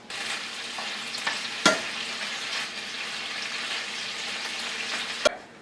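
Food frying in a pan is stirred around, a steady close sizzle with a few sharp scrapes and knocks of a utensil against the pan, loudest near the start and end.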